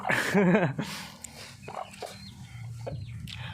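A fighting rooster on a small farm lets out a clucking call near the start, followed by quieter scattered farmyard sounds and a low hum.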